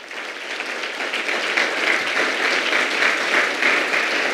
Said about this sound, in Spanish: Denle una ofrenda de palmas fuerte al Señor.